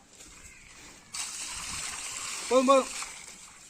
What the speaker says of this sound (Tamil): ப்ரோ எடுத்து வந்த சிக்கனை வாஷ் பண்ணிக்கலாம் வாங்க